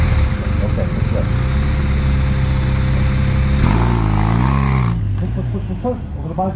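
A BMW R1250RTP police motorcycle runs close and loud through a low-speed skill demonstration at Barber Motorsports, its engine humming steadily and then rising and falling with revs near the end.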